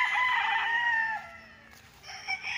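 Farm chickens on a rural lot in Liliw, Laguna cluck and crow close by, a rooster's call drawn out at the start and another rising near the end, with no talk over them.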